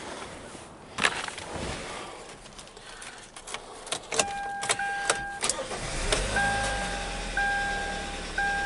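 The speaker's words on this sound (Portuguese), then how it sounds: "Vamos ligar aqui, ligar o motor." A 2016 Kia Sportage 2.4L engine cranks and catches, settling into a low idle, preceded by clicks and followed by repeated electronic chimes from the dashboard.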